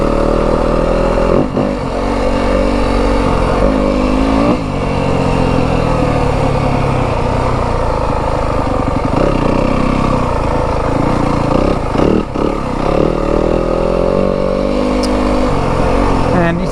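A 2025 Yamaha WR 250F dirt bike engine droning steadily while being ridden on a cruise, loud and close with shifting revs, while a voice talks over it at times.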